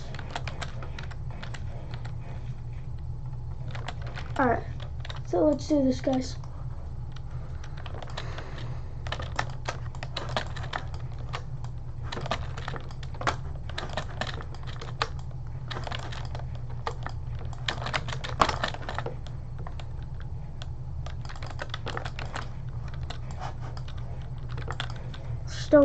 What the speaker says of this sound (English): this is my keyboard and mouse.